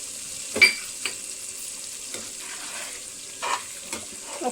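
Mushroom masala curry with kasuri methi being mixed in a pan, a faint simmering hiss broken by a few separate scrapes and clinks of the spoon, close, no talk.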